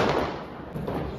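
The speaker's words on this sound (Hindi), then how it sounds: "यार वहाँ पे पीछे बहुत अच्छे पटाखे चल रहे हैं," Firecrackers pop in the distance during a Diwali celebration, with dull thuds and crackles spread over a low background rumble.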